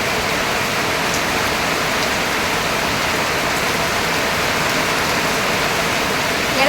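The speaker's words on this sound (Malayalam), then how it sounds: "ഭയങ്കര മഴയാണ്. മഴയെന്ന് പറഞ്ഞാൽ മഴ തന്നെ." Heavy rain pours down in a steady, loud, dense roar that never lets up, with no voices over it.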